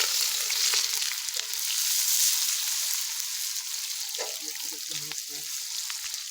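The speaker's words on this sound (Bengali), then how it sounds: "পেঁয়াজটা হালকা লাল লাল করে ভাজা হবে" Sliced onions sizzle in hot oil in a pan with cloves, dried red chilies, cinnamon and whole cumin, a steady bright hiss with a few stirring scrapes and a brief voice near the end.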